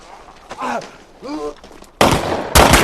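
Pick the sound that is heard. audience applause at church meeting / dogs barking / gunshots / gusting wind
gunshots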